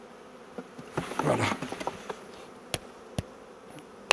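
Honey bees buzzing around a hive frame during a hive inspection, a brief swelling buzz followed by a few sharp knocks and taps, with a short spoken word.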